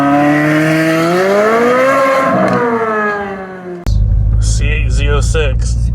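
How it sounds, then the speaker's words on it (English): A Chevrolet Corvette C8 Z06 with a flat-plane crankshaft engine revs loudly and close up, its rising, falling pitch filling the first few seconds before a sudden cut to a deep idle rumble under a passenger's voice. "He just drove a Z06. Flat plate crankshaft is absolutely intoxicating."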